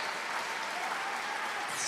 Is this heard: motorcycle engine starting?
no